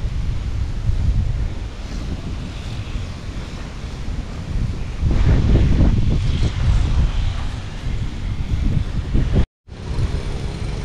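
Strong wind over a farm field buffets the microphone with a constant rumbling roar, gusting louder midway, with no voices heard.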